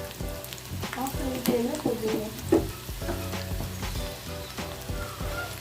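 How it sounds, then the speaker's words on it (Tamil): Spices for a tempering crackle and sizzle in a pan over a high flame, close and steady, with occasional stirring scrapes and no talking. "இப்போ நான் தீ வந்து கொஞ்சம் ஹையில் வச்சுருக்கிறேன் கொஞ்சம் அது ரோஸ்ட் ஆகணும்"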